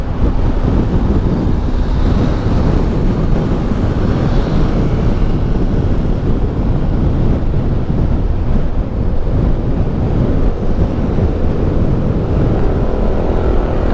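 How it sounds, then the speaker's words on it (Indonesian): Steady, loud wind roar buffets the microphone while riding a motorcycle along a road through rice fields on the Pantura route from Bekasi to Subang. The rush is continuous and broadband throughout, with no talking. "Jadi banyak angin."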